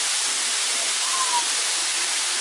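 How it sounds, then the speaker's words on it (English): Steady, dense sizzling hiss, like food frying in a hot pan, continuous and fairly loud throughout with no talking. "but listen to that stuff sizzle."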